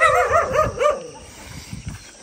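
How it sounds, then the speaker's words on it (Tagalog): A dog barks and yips in a few sharp bursts up close during the first second, then fades to quieter movement and background noise, somewhere in a rural home setting with rushing water nearby. "May aso."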